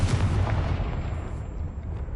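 Confringo fire spell exploding in Hogwarts Legacy, a single deep booming burst up front that rolls off into a fading rumble.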